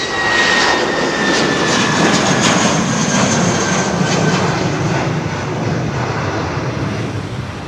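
Lufthansa Airbus A320neo jet at Heathrow Airport, a loud, steady broadband engine roar that holds for the whole stretch with no talk, then eases off slightly near the end.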